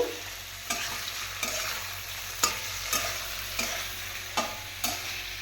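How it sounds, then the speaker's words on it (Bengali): Salted prawns sizzle steadily in a pan, close up. A spatula scrapes and stirs about every three-quarters of a second, and each stroke lifts the hiss in a regular rhythm. "ভালো করে মাছটা আমি ভাজা করে নেব"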